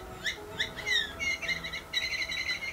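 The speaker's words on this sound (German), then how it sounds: "Das piept auch noch wie ein Vogel." Bird-like electronic chirping from a cat toy: a series of rapid rising and falling tweets, repeated several times and then running together into a warbling trill, close and fairly clear.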